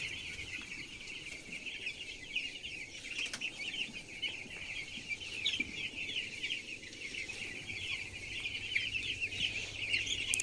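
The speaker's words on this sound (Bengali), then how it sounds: "মুরগিগুলো কিন্তু এদিক থেকে ওদিক ছুটাছুটি করছে" Chickens cluck steadily in a coop as they run about on fresh husk bedding, a busy, continuous chorus of clucks and short calls at moderate distance with no talking.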